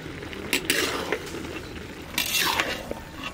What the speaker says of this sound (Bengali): এবার চিংড়ি মাছগুলো ভেজে রেখেছিলাম সেগুলো আমি দিয়ে দিচ্ছি। একটু নাড়া দিয়ে দেবো